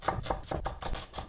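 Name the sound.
chopping garlic finely with a knife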